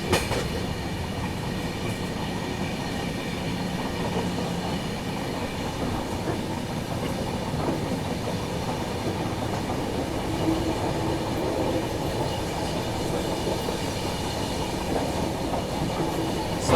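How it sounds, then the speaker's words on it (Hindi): Dibrugarh Rajdhani Express (12423) running on tracks near the Saraighat Bridge by Guwahati, heard from inside a 3AC coach: steady rumbling rail noise with rhythmic wheel clatter throughout, loud and continuous, no talking. "सरायघाट ब्रिज बस पहुंचने वाली है ट्रेन"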